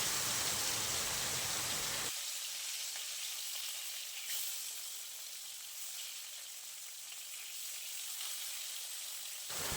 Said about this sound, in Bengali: এখন মাছগুলো একটা একটা করে দিয়ে ভেজে নেব।